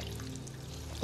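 Drinking water pours steadily in a Fallout 4 mod game, a soft continuous trickle at low level that runs throughout with a brief louder splash near the end, no talking.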